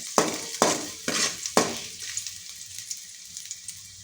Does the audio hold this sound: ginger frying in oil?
yes